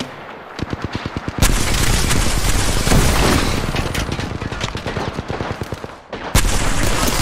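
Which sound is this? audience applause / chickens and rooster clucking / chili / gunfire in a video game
gunfire in a video game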